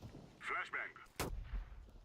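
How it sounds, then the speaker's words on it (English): In CS:GO on Dust2, a flashbang grenade bursts with one sharp, loud crack, following brief game noise and trailing into a low rumble. "Flashbang."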